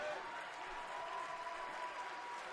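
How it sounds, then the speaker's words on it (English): A wrestling show crowd applauding and cheering in support of a female wrestler, a steady wash of clapping and crowd noise filling the arena at moderate volume. "And the crowd supporting Toni through thick and thin"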